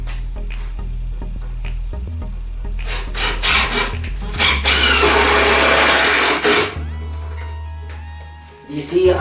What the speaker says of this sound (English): You see, I'm drilling it in